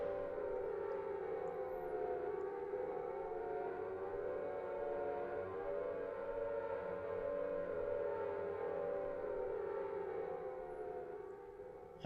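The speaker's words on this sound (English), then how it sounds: "But I finish, and then air raid sirens." Air raid sirens wail in the Silent Hill video game, a loud continuous droning tone that slowly rises and falls throughout with a dense rumbling bed underneath and no voices.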